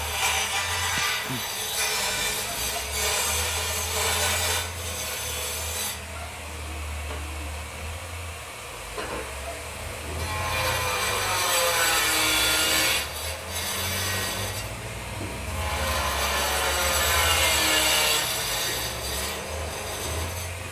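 Sawing and construction work at a neighbour's house carry on through the whole stretch as repeated rasping, scraping strokes of varying loudness, with a low hum and occasional knocks beneath.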